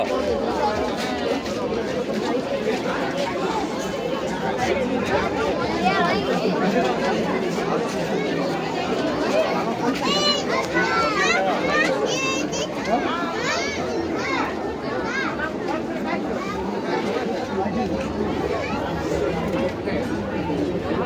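Dense crowd chatter fills the Purulia Ras Mela fair, a continuous babble of many nearby voices including children's, with shouts rising out of the hubbub.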